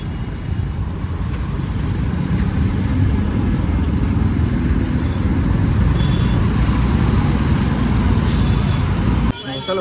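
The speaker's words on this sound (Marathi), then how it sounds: "पत्री पुलावर भरपूर ट्रॅफिक झाले" Heavy road traffic jammed on Patri bridge makes a dense, continuous rumble of engines and road noise, loud and close, with brief higher sounds of horns or brakes that ends in a sudden break near the finish.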